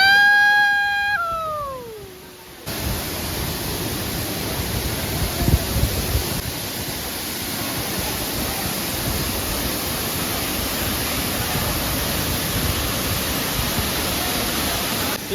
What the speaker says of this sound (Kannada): ಇಲ್ಲಿ ನೋಡ್ರಿ ಕಲ್ಲಾಗಿಂದ ನೀರು ಹೆಂಗೆ ಬರ್ತೈತೆ